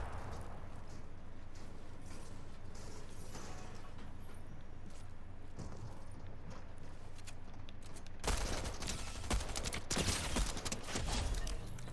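Gunfire in the video game Fortnite is quiet and scattered at first, then turns into a dense, loud burst of rapid shots over the last few seconds.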